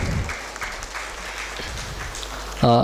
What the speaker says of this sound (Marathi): मी प्रेक्षकांना अशी विनंती करतो की त्यांनी पुन्हा एकदा त्यांच्यासाठी टाळ्या होऊ द्यात